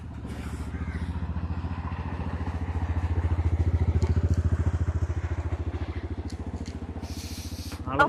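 A motorcycle engine thrums steadily as the bike rides along, its low pulsing drone swelling slightly mid-way, with brief clatters near the end.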